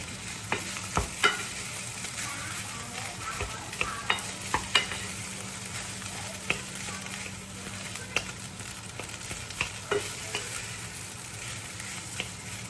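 Pork belly fried rice being stirred and mashed in a hot pan: a steady sizzle runs beneath repeated sharp scrapes and taps of a utensil against the pan, close and continuous.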